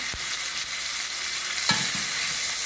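Steady, loud sizzling of steak frying in a hot, thick-bottomed pan, with occasional soft scraping and stirring sounds, no voices.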